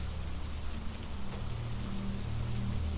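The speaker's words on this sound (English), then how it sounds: "Rain," Steady rain falls near a seaside cabin, a dense, even hiss with a low rumbling undertone continuing throughout, no voices.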